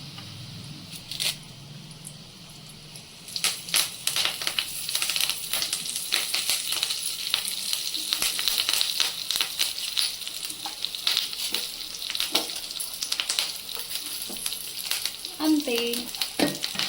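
Curry leaves and spice powder sizzle in a hot pan while being stirred for stuffed bitter gourd, a steady close crackling with scattered metallic scrapes and clinks of the spoon, and one brief spoken word.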